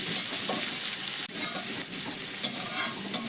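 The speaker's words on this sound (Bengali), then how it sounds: "এখন আমি এর মধ্যে দিয়ে দিচ্ছি একটা বড় সাইজের কুচনো পেঁয়াজ" A large chopped onion frying in oil with mustard seeds and cumin makes a continuous close sizzle, broken by a sharp clack and light stirring scrapes, with no voices.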